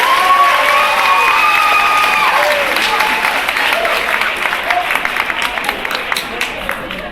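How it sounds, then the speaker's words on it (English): A high school audience bursts into applause and cheering, dense clapping with whoops and shouts that fill the room, gradually thinning into scattered individual claps toward the end. "Give yourself a round of applause."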